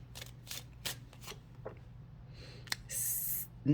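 Tarot cards shuffled and drawn in a quiet room, a series of soft papery flicks and slides, one sharp snap, then a longer brushing riffle near the end, all close and fairly faint over a low hum.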